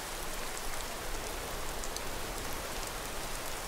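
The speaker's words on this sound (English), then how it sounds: "Wow, that's some rain." Heavy rain pours down steadily in a video game, a dense, even hiss of drops with no pauses and no voices over it.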